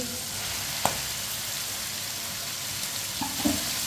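Chopped tinda frying in a pan with cooked tomato and raw mango, a steady dense sizzle with a couple of stirring knocks near the end, no talking.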